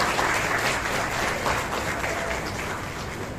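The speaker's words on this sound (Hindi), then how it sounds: "हमारे डीसीपी अजय कुमार बंसल साहब का जोरदार तालियां बजनी चाहिए" Enthusiastic applause for a police DCP at a neighbourhood peace committee meeting with mosque and madrasa clerics, a loud continuous burst of many hands clapping that eases slightly toward the end.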